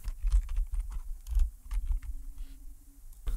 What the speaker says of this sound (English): We're going to just type in after show here.